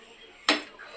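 A single sharp clink of a spoon against a pan while stirring chicken curry, heard close and brief, with quiet surroundings before and after.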